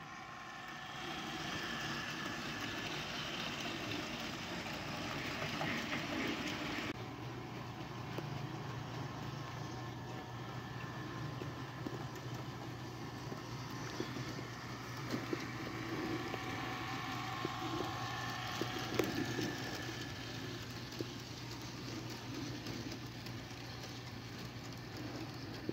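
A KR Models Fell model locomotive runs with a train, giving off a steady, fairly loud motor whine and rumble that continues throughout, with a low hum settling in partway and a few faint clicks near the end.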